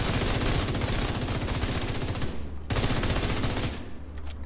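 Sustained automatic gunfire in The Division 2, a loud rapid continuous stream of shots with a brief pause midway before firing resumes, close and dense.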